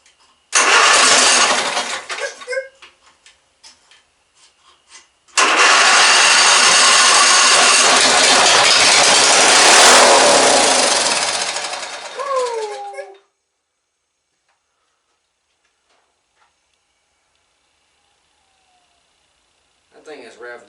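A propane-powered, heavily modified 1988 Murray race mower engine roars to life and revs hard at high pitch, cuts out, then runs again at high speed before stopping into near silence.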